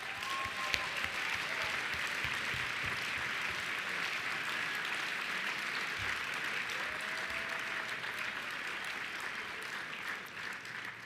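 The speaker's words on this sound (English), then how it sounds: "how about a round of applause for everybody?" Sustained applause from an awards-ceremony audience at the 2010 Chicago/Midwest Emmy Awards, clapping for the nominees; a dense, steady roar of hands that holds at an even level throughout with no voices over it.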